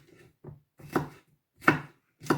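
A knife chops through half an onion on a board in a home kitchen, four or five crisp, evenly spaced strikes, close and clear with no talk.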